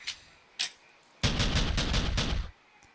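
Rapid gunfire from an enemy in a modded video game, opening with two sharp isolated shots followed by a dense, loud burst of automatic fire that stops abruptly.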